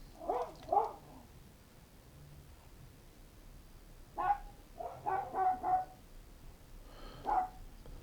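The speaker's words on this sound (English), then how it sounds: "Joining in the barking." Dogs bark outdoors in a neighbourhood, fairly faint and distant, with a couple of short barks at first, then a run of several barks after a pause and one more later.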